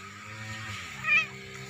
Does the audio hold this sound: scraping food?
no